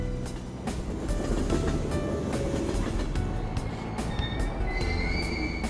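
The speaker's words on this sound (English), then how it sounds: "Train doors are now closing. Please stand back." A train in the video game Persona 5 Royal pulls out of a station, its steady rumble and rolling wheels filling the scene with high wheel squeals and chimes rising near the end, with no talking.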